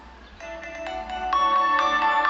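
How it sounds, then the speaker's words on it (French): A TCL 20SE smartphone plays its ringtone through its single built-in speaker, a bright melodic chime that enters softly and grows louder over a couple of seconds, alone with no talking. "je vous fais écouter la sonnerie du téléphone"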